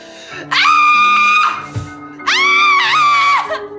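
A person tied to a chair lets out two long, loud, sustained screams, a brief gap between them, with faint background sound underneath.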